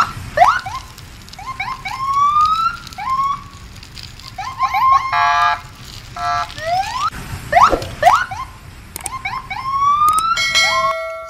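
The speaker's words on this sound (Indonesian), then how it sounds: "Ada mobil polisi berwarna merah." A red police car siren cycles through rapid rising and falling electronic wails and warbling tones, loud and close, with no voices over it.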